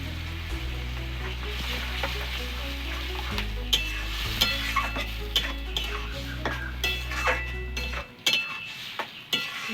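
Banana stem (thor) with turmeric frying in a pan, a steady close sizzle with repeated stirring scrapes and light metallic clinks, the sizzle cutting out near the end.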